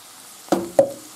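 Tomato sauce is poured into a pan of rice for a seafood cream and stirred, giving two short close squelching, sizzling bursts over a quiet background, with no talking.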